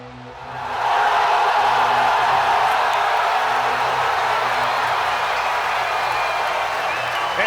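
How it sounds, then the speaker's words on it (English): A packed New York City arena crowd in the WWE 2K wrestling game roars an ovation for the Ring General, Gunther, a loud, dense, sustained wash of cheering and applause that swells in after a second and holds steady. "what an ovation from the New York City crowd for the World Heavyweight Champion, the Ring General, Gunther"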